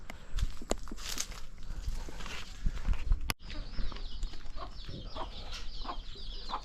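Free-range village hens and chicks on a farm give soft, scattered clucks and rustling movement at close range over steady outdoor background noise, with no talking.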